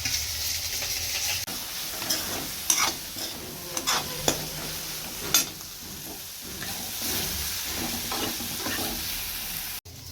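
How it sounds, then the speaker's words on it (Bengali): Cut potatoes for a fish curry fry in a pan with a steady, close sizzle, broken by several scraping stirs of a spoon. No one speaks. "ভেজে নিচ্ছি এখানে মাছের ঝোলের আলু কাটা হয়ে গেছে"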